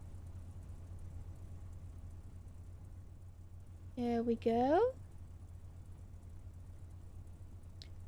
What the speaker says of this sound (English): We have engine noises.